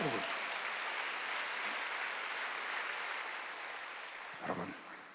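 Church congregation clapping together during a Sunday worship service, a dense steady wash of applause that holds for several seconds before thinning out near the end.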